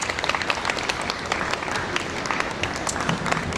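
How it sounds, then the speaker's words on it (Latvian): An audience at an outdoor folk festival in Riga's Vērmanes garden bandstand applauds steadily, a dense patter of many hands clapping at moderate loudness with no voices over it. "Aplaus vēlreiz."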